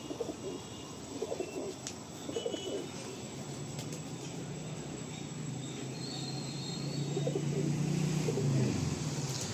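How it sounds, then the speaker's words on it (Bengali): Pigeons kept in a loft, a set of Madrasi, Andhra and Malwai breeds, give soft intermittent cooing and bird calls over steady ambient noise, with a low rumble building toward the end. "এই হলো সেট পায়রা, এক সেট পায়রা।"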